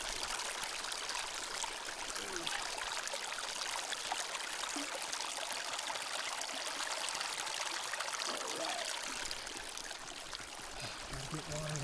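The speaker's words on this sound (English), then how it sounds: "found this little stream going down here" Faint trickling and gurgling of a small stream in the Colorado backcountry, soft and continuous, with low background noise and no clear talk.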